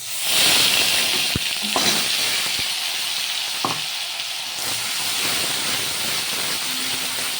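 Ginger-garlic paste and whole garam masala sizzling in hot oil left from frying fish, a steady loud hiss and crackle with a few sharp spatters and stirring knocks.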